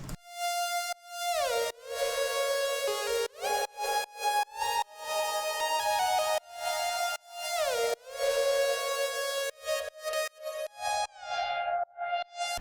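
Future bass synth leads made in FL Studio, bright chordy stabs with pitch bends and choppy sidechained pumping, rhythmic bursts cutting in and out across the phrase, loud and alone.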